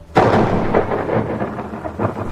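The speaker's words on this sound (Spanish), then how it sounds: "el barco fue alcanzado por una enorme tormenta" A thunderstorm in full force: a sharp, loud thunderclap breaks and rumbles on, and heavy rain pours steadily beneath it, with no voices present.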